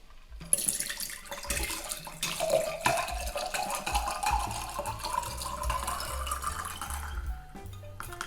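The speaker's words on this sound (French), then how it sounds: "nous allons verser l'entièreté de notre blender dans le verre tiki" A Zombie rum cocktail poured from a blender jar into a tiki glass, a steady liquid pour with splashing running for several seconds at close range, with no talking.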